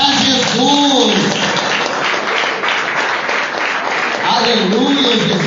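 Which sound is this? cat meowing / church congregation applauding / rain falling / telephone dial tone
church congregation applauding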